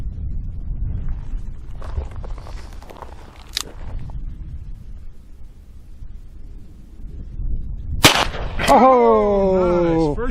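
A Rock Island .38 Special revolver fires one loud, sharp crack outdoors, with a fainter pop a few seconds earlier and an excited voice right after the shot.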